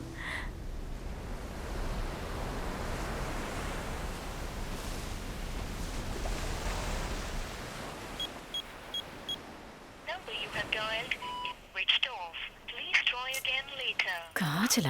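A phone call that won't go through: steady static hiss, a few short beeps, then a voice speaks over the line.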